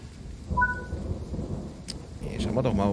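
Steady rain and rumbling thunder in Train Sim World 3, a broad wash of noise throughout with a brief bright crack near the end, heard alone without talk.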